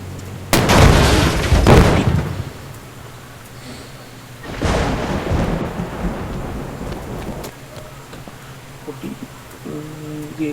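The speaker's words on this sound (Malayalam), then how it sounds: "ഇനി നമുക്കൊരു ബോംബിട്ട് നോക്കാം." Two heavy booming blasts from a big missile bomb in the Indian Bikes Driving 3D game, each a loud rumbling explosion that decays slowly, with a quieter ambient background between and after.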